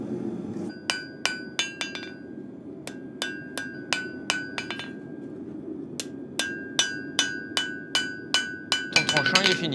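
A hammer smooths a forged blade flat on an anvil, striking in steady bursts of sharp ringing blows with short pauses between groups, close and loud, with a low background hum beneath.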